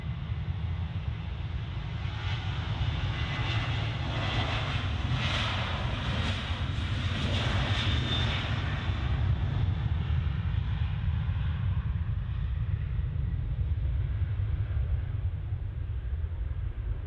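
A Ryanair airliner on the runway at Manchester gives off a sustained jet engine roar with a rising, whining upper tone that peaks midway and then eases, loud and steady throughout with no voices.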